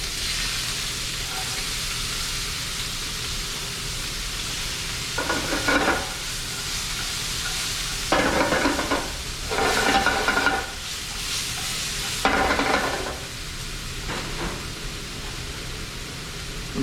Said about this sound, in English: we're gonna go down at a lower temperature here just to start sweating out our onions and our garlic